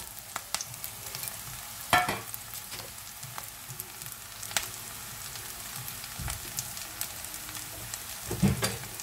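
Fennel seeds, curry leaves, pandan and dried chillies fry in a pan as a quiet, close crackle, broken by sharp spatter pops and a few louder clatters of stirring.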